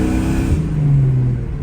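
A Procharged New Edge Ford Mustang engine revs hard, a loud close roar whose pitch climbs as the throttle opens, with the car suffering transmission problems.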